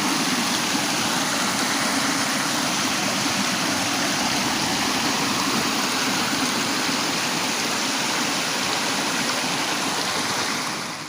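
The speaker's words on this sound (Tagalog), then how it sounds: "Ang ilog na nag-iilog pag umuulan lang." A rural river, swollen after rain, rushes loudly and steadily at close range. The broad, unbroken roar of the water holds at full strength throughout and dips slightly only at the very end.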